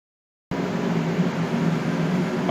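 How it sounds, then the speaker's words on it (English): Silence, then the cooling fans of a plasma cutter in a shop start abruptly and keep running without change, a loud, steady, broad whooshing drone with no voices. "We got the fans running here on the plasma cutter."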